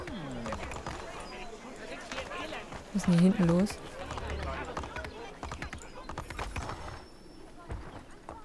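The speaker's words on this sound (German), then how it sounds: "Alles gut, ich bin nur auf dem Pferd unterwegs." Horse hooves clop through town streets while riding in the video game Assassin's Creed 3, a faint rhythmic clatter under game ambience and someone speaking, with a louder burst midway.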